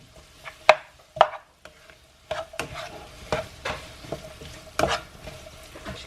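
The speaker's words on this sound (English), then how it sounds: "I'm going to put my chopped gammon in." Chopped gammon goes into a hot pan and fries with a light sizzle, while a utensil stirs and scrapes against the pan with sharp clicks and taps.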